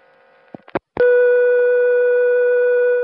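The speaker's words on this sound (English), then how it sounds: "there was a special dial tone on the 660" A few short clicks, then a steady, loud, continuous electronic special telephone dial tone from a 660 line, holding unchanged for about two seconds.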